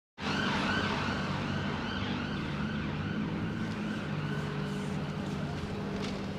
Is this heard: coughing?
no